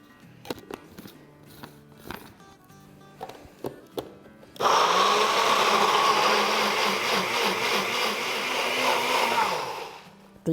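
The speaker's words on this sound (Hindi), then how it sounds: "इसको प्याज़ों को पीस लेते हैं।" A kitchen blender whirs loudly as it grinds onions for a chicken karahi, starting abruptly midway after some light clatter and running steadily to the end.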